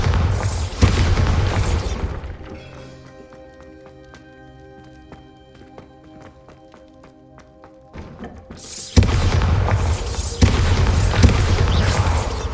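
Bombarda blasting spells go off in Hogwarts Legacy as loud, booming explosions, one at the start and another near the end, each with a long rumbling tail and a quieter musical lull between them.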